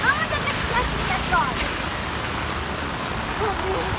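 Steady rain falling outdoors, a continuous hiss of drops on surfaces with faint chirps and distant noises, no talk over it.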